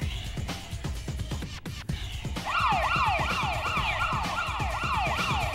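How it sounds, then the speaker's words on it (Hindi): Wailing police sirens rise from the middle of the clip and repeat in rapid up-down sweeps over a busy background of rhythmic noise. "पुलिस वालों के सैरनों की आवाज आ रही रे"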